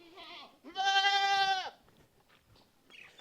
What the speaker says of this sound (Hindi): ए बकरी बकरी इधर देख